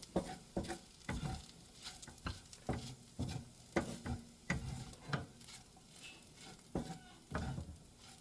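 Diced ingredients frying with chorizo in a greasy pan are stirred in quick, regular scraping strokes over a soft sizzle. The sound is close and fairly quiet, with no voices.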